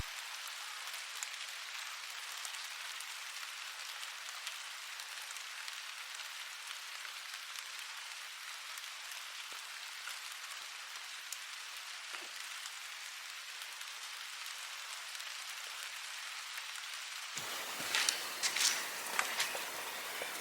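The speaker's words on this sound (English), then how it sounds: "So here's that rain I was talking about." Steady rain falls outdoors on a building site with partly built walls, a dense even hiss of drops on surfaces lasting throughout, ending in a brief louder rustling patch.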